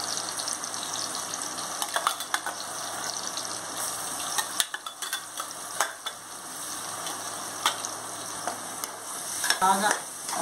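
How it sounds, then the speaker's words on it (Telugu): Ground masala for chicken curry frying in hot oil in a pan, a continuous close sizzle with stirring clinks and scrapes throughout, no talking. "మసాలా ఇలా వేయించుకోవాలండి"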